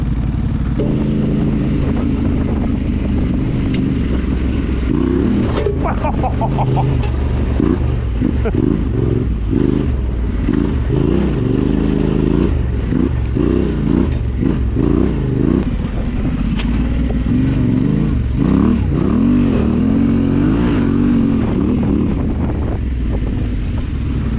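A dirt bike rides across the sand and hills of Nellis Dunes in Nevada, its engine droning and revving continuously under heavy wind buffeting on the microphone, close and loud throughout.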